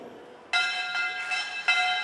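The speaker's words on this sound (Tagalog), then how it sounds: "we will toll the arena bell" An arena bell rings out in several distinct strikes at a trade fair opening, each bright metallic tone ringing on and overlapping the next, with steady background murmur.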